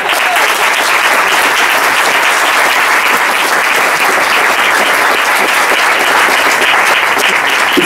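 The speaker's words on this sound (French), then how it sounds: "On peut les applaudir quand même." Dense, steady applause comes from a crowd of young people gathered in a field to honour four bishops, continuous and close throughout with no talk over it.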